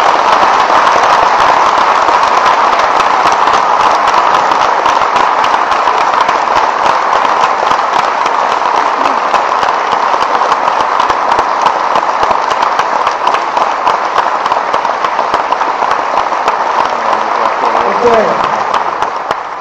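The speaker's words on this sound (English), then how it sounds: "Please join me in a round of applause to our heroes." Sustained, loud applause from a large crowd honoring heroes at a commencement-style ceremony, dense steady clapping filling the whole stretch before tapering at the end, with a brief spoken word near the close.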